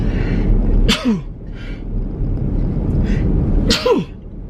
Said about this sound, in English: Because I'm literally sneezing.